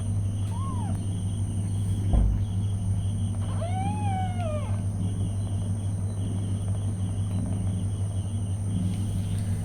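A mother cat lies with her newborn kittens, and thin, rising mews come twice over a steady background hum, one brief and one longer.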